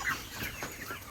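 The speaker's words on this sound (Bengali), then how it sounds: "আর হচ্ছে এখানে আর 1000-এর মতো মুরগি আছে।" Chickens on a poultry farm holding around a thousand birds, a brief low-level murmur of overlapping clucks from a flock at a moderate distance.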